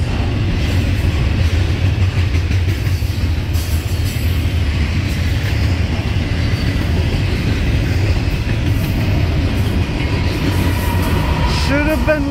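A freight train with two Norfolk Southern locomotives running mid-train rolls past close by at Fullerton, a loud steady roar of wheels and cars filling the whole stretch, with a faint squeal near the end.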